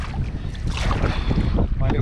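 Strong wind buffets the microphone while a canoe is paddled on Loch Shiel, a close, gusty low rumble with water noise that surges and dips continuously.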